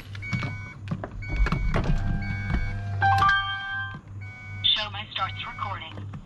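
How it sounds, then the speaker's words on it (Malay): Whirring of a car's electric side mirror motor running in short bursts during a fuse tap test on a Proton Saga, with electronic beeps and a person talking over it, close and fairly quiet. "side mirror pun still berfungsi"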